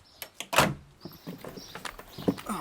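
A heavy car door is worked loose and lifted off its hinges, with a sharp metallic clunk followed by scattered knocks, scrapes and rattles at close range.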